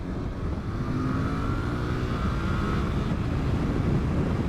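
Suzuki GSX-8R motorcycle engine pulling under load on the road, a loud continuous drone with rising engine tone buried in heavy wind rush.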